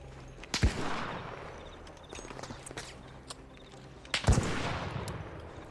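Gunfire in the video game Arc Raiders: two sharp, loud shots a few seconds apart, each followed by a rumbling decay over a steady background of game noise.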